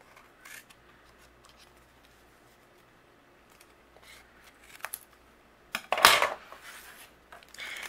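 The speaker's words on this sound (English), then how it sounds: "I'm going to use my scissors and I'll trim away the excess" Scissors snip away excess paper from a gnome card on a card base, a few short crisp cuts, the loudest burst near the end, close and fairly quiet, with no talking.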